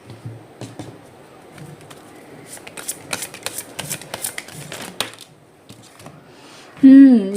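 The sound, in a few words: tarot cards being shuffled and drawn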